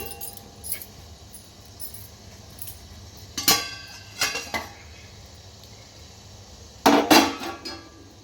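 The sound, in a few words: plate lid removed from a steaming pot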